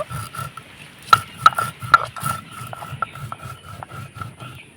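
Spices being coarsely ground on a shil-pata stone for an oil-free raw mango pickle, heard as a run of close scraping strokes with sharp clicks and knocks in an uneven rhythm, with no talking over it.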